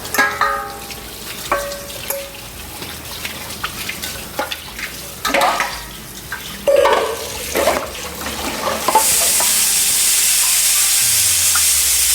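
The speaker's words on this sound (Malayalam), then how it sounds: "ഞാൻ ഈ പാത്രങ്ങളൊക്കെ ഒന്ന് കഴുകിയെടുക്കാം." Dishes being washed under running water, with scattered clanks and clatters of utensils over a steady rush of water; near the end the tap runs strongly and steadily alone.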